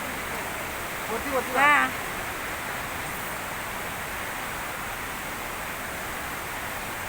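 Fast-flowing water rushing down a hillside stream gives a steady, loud broadband roar throughout, with a brief voice calling out near the start.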